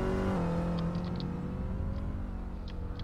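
A car engine in a Roblox game runs steadily and revs, with a whirring motor tone that stays close and fairly loud throughout as the vehicle is parked, and no talking over it.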